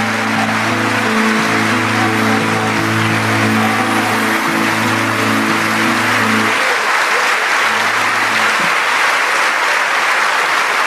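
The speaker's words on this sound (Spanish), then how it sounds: "Dale un aplauso al Señor Jesucristo" Loud, sustained applause from a large crowd at an evangelical church service, with a low droning tone underneath that cuts out briefly near the end.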